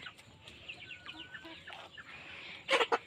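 Several chickens cluck and chatter in short, scattered calls at moderate distance on a hill-tribe farm, with a couple of louder, sharper squawks near the end.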